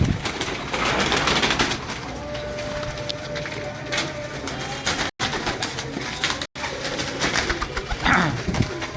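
Breeder pigeons at an outdoor pigeon show coo steadily, close by, within a dense wash of surrounding noise, with two very short dropouts.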